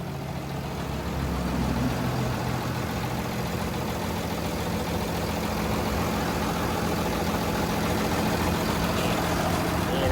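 A Komatsu WA380-8 wheel loader's six-cylinder turbo diesel, a 6D107, idles steadily at close range, a continuous low rumble with a constant hum running through all ten seconds.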